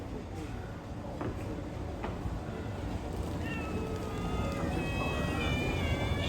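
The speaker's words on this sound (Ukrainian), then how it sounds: "Привіт, коти!" Cats meowing on a street in Istanbul at night, several rising, wavering meows in the second half over a busy background murmur, with a person talking nearby.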